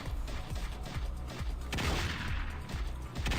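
Dense, continuous gunfire from a modded video game, bursts of rapid shots and magazine dumps at a boss-like target, loud and sustained with heavy low booms throughout, no talking.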